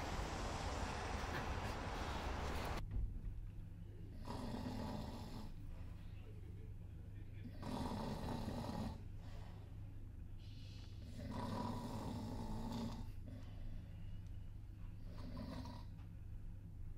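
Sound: person snoring while asleep

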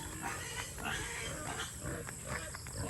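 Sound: piglets and pigs on a free-range farm

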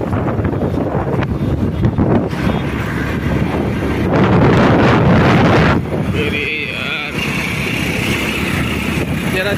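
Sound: motorbike ride with wind noise

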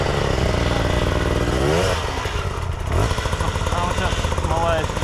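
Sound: off-road motorcycle engine riding in circles

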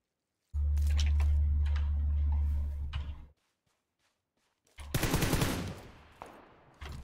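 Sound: gunfire in the video game PUBG Lite

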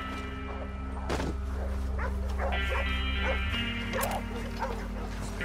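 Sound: dogs barking in video game Red Dead Redemption 2

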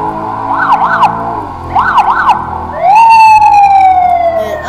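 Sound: police car siren

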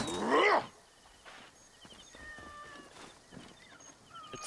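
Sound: cat meowing in the video game Assassin's Creed Origins

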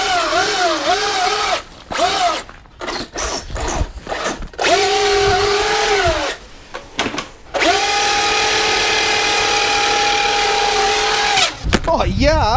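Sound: RC truck drivetrain grinding and stripping

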